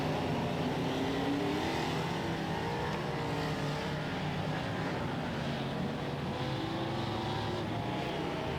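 Race cars at Waikaraka Park speedway during the 1997 Teams Nationals, engines droning and revving continuously as the pack circles the track, a steady loud roar with shifting pitch and no speech.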